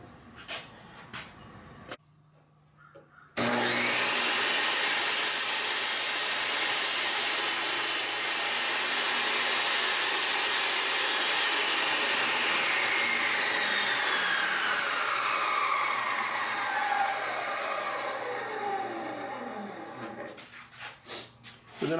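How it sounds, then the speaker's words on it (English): A table saw cuts a piece of wood for a heavy-duty mop: the motor spins up sharply, then the blade bites in a long, loud, steady cut with a falling tone, before the saw winds down. "just run this piece of wood through"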